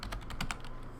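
Fast, light clicking of a computer keyboard as code is typed, a short close run of quiet keystrokes with no talk.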